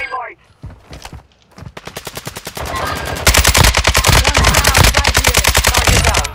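Rapid automatic gunfire from a video game battle royale match, a dense run of loud, evenly spaced shots that grows louder and more sustained partway through, with brief talk early on.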